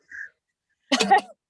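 A single sneeze bursts out close by after a brief faint tone, a sharp breathy explosive sound lasting about half a second, heard alone with no talking over it.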